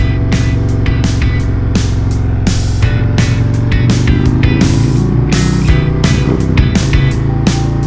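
Harley-Davidson Road Glide motorcycle cruising on a Seattle highway, a loud steady engine drone with constant wind and road roar throughout, no talking.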